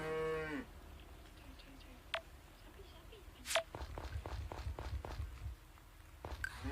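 A drawn-out cow moo from the video game Story of Seasons: Friends of Mineral Town at the start, followed by scattered clicks and soft footstep-like thuds with light background noise.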